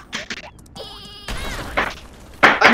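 The sheep weapon in the Worms W.M.D. video game bleats loudly several times, with game effects including a short tonal buzz and crashes in between.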